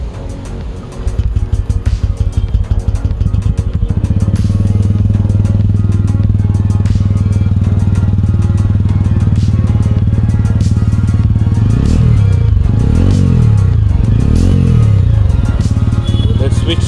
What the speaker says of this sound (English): It has a very nice bassy feel to the exhaust note.